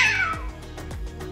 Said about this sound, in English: Cat gives fellow cat a huge jump scare.